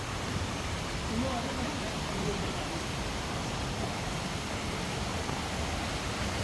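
Near Lingmala waterfall in Mahabaleshwar, monsoon water runs down the mountain with a constant, even rushing hiss at moderate level and no clear breaks.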